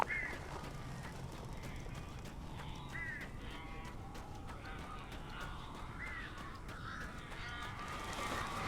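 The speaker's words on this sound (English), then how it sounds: "These birds are weird." Crows caw in Alan Wake Remastered, a video game, with repeated harsh calls scattered across a dim, rumbling ambient bed, some calls nearer and some more distant, at a fairly low level.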